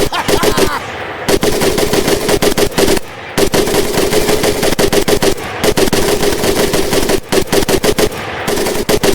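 Machine gun fire in the video game Medal of Honor: Pacific Assault, loud sustained bursts of rapid automatic shots broken by a few brief pauses, close and dominating the scene.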